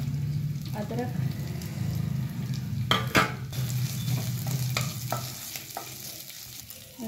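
Cumin seeds, green chillies and ginger sizzle in hot oil for a green pea samosa filling, with a sharp clatter of a spoon against the pan partway through and soft stirring scrapes underneath.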